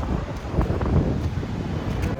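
Outdoor wind on the Konkan coast buffets the microphone in a low, continuous rumble, while a person talks over it.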